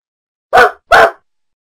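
Two sharp dog barks in quick succession, loud and close, with silence before and after.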